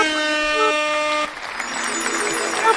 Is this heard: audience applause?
no